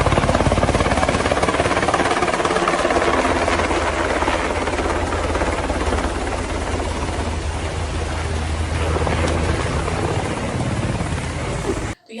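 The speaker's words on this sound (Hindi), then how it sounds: "आसमान में आपको हेलीकॉप्टर लैंड करता हुआ दिखाई देगा" A helicopter lands where doctors and Israeli personnel are gathered, its rotor and engine roar loud and steady for about twelve seconds before cutting off abruptly.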